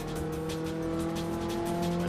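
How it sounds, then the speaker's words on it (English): A Nissan race car braking hard at a NASA track day at Autobahn Country Club, tires squealing in a steady sustained whine over loud engine and road roar, heard from inside the car. "He hit his brakes."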